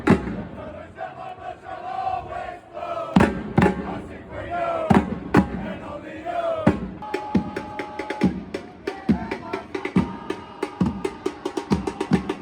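Football supporters march through city streets toward a stadium in Seattle, sharp drum hits and crowd chants echoing, the beat growing steadier and faster partway through, loud and reverberant with no talk over it.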